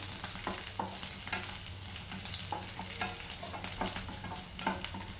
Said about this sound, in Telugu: కొబ్బరి ముక్కలు కూడా వేసుకోవాలి దీన్ని మంచిగా ఫ్రై చేసుకోవాలండి